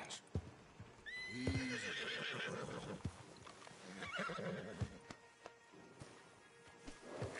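A horse in the video game Red Dead Redemption 2 gives a sharp whinny, followed by scattered clopping hooves, while someone speaks soothingly in a low voice.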